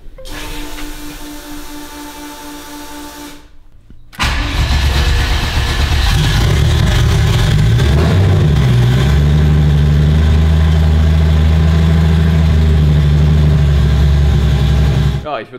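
A VW Golf running an EMU Black ECU cold-starts at 6 degrees, the loud starter-and-catch surge followed by a steady, close, rumbling idle, with a voice talking near the start.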